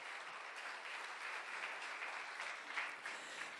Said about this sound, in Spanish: Dale un aplauso fuerte al Señor esta noche.